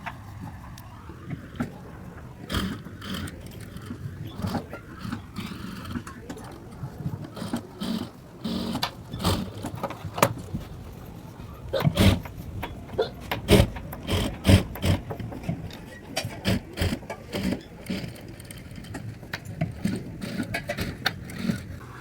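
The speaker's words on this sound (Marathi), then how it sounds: "आता आपण याच्यावर दाब शिलाई देऊया आणि लेस लावून घेऊया." Sewing machine running stitches to attach lace onto net fabric for a heavy bridal blouse back neck, with repeated short mechanical bursts of whirring and clicking, moderately close, no talking.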